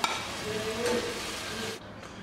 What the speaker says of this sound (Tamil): தக்காளி மசாலா தூள்லாம் அரைச்சி வச்சுருக்கதை எடுத்து ஊற்றுவோம்